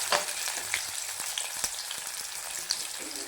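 Red chillies and small onions sizzle in hot oil in a kadai, a steady close crackling hiss broken by a few sharp pops, with no voices.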